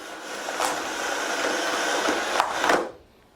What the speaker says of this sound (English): you also get a cord rewind, and it's an automatic cord rewind